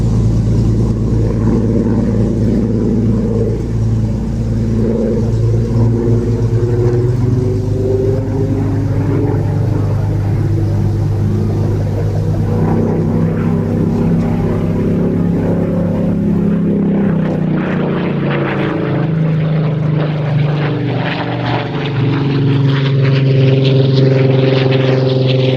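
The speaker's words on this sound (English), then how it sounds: "meanwhile, the sound of Warbirds." Warbird propeller aircraft engines drone steadily and loudly throughout, a dense low rumble with layered harmonic tones that shift in pitch as the engines pass, with no talking.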